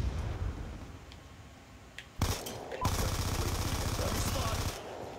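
Rapid automatic gunfire in Call of Duty Black Ops 2, a dense burst of shots beginning a couple of seconds in and continuing loud until near the end, after quieter background game noise.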